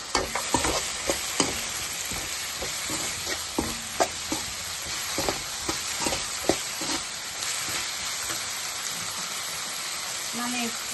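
Gobi fried rice hisses in a pan with red chilli sauce as a spatula stirs it, giving repeated sharp knocks and scrapes over a steady sizzle, with some faint background speech.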